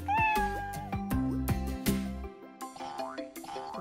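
A cat meows clearly at the beginning, followed by cheerful plucked music playing on its own.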